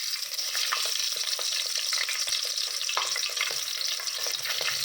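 Green chillies and cumin frying in hot oil on a low gas flame, giving a steady close hiss with small crackles and spatters throughout, no voices.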